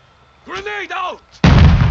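A grenade goes off in the Warzone battle royale video game, a sudden loud, close blast that rumbles on after a short shouted voice.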